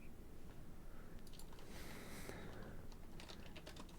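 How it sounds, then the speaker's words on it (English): Keys tapped on a computer keyboard in quick, uneven bursts of light clicks, close and fairly quiet over a steady background hiss, with no voices over it. "My typing is not on point today."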